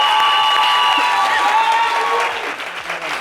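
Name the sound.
applause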